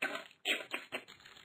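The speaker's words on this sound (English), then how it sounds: "They each began furiously Googling." Fast, furious typing on a computer keyboard, a few quick clustered key taps and clatters, close and quiet with no voices.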